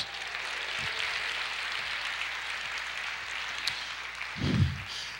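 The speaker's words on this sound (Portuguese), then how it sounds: "Você pode aplaudir o Senhor e dizer glória a Deus?" Church congregation applause, a soft, distant, continuous patter of many hands clapping in a large room, with a couple of low thumps near the end.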